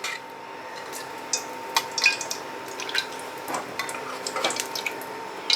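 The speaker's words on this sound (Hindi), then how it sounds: "घी डालते हैं कढ़ाई में।" Ghee poured into a kadhai over a lit flame while cooking chicken biryani: a faint, steady liquid trickle with scattered small drips and splashes, heard alone without talk.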